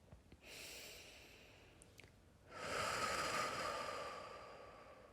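Deep belly breathing during guided meditation, a softer inhale followed by a longer, louder exhale that slowly fades, close and unaccompanied by talk.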